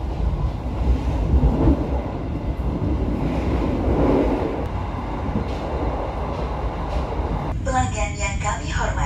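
Steady low rumble and rattle inside a new PT KAI executive-class train running from Purwokerto to Bandung, continuous and close with mild shaking, with a chime-like announcement tone near the end.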